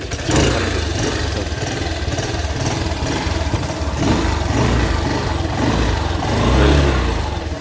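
A motorcycle started and left running in a rural village yard, giving a loud steady mid-pitched engine drone with slight surges in revs, heard close and alone.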